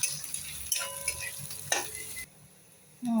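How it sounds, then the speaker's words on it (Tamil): Onions sautéing in a pan for a Tamil chicken gravy: soft sizzling with a few clinks and scrapes of stirring. It drops to near quiet partway through, then a sharper burst of frying returns at the end. "வெங்காயம் போட்டு கொஞ்சம் நல்லா வத வதங்கட்டும்"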